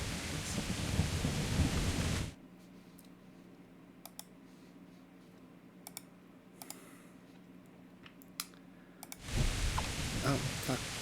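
Loud thunder rumbles and heavy rain roar in the video game Kingdom Come, strong at the start and end with a quieter stretch in between broken by sparse clicks.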